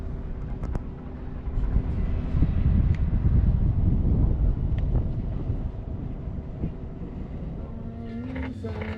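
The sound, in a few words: wind blowing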